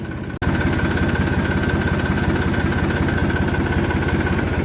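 A tractor engine runs while pulling a trolley on a farm, a loud, close, steady diesel chug with a fast pulsing rhythm and constant vibration, briefly cut at the start before continuing unbroken, with no talking.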